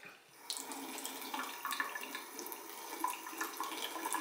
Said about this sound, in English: I'm going to take some warm water.